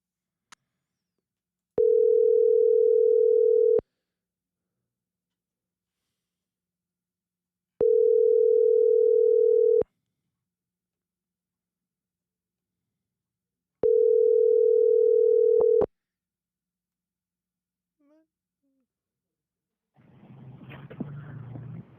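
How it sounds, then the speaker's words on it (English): Telephone tones sound while a call rings through before reaching voicemail: three steady, evenly spaced beeps about two seconds long with silent gaps, clear and close, followed by a faint noisy hiss near the end. "Let me call Yef again"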